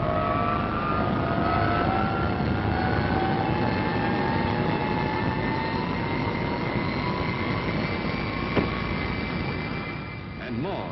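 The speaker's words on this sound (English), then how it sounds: "The mass takeoff that launches a squadron of jets almost simultaneously into the air from a crowded, howling runway like angry falcons." Squadron of military jets in a mass takeoff from a crowded runway, a loud continuous engine roar with rising whining tones, steady throughout and close.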